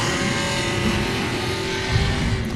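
Drift cars circling the track at the LS Fest Texas drift challenge, including a purple and yellow BMW and a Nissan 370Z, roar past with a steady, loud engine drone and rising revs, with no talk.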